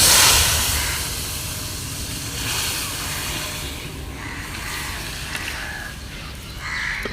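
Tomato going into fried onions in a hot pan, a loud, steady sizzle that hisses strongly at first and then settles into a continuous frying crackle, with no talk.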